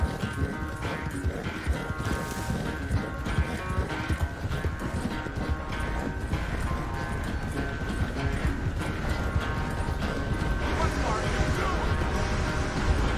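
Horse hooves gallop in a steady clip-clop rhythm through Red Dead Redemption 2, loud and continuous for the whole stretch, layered under game sounds and a voice talking.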